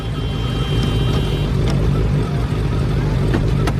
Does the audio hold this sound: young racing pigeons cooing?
no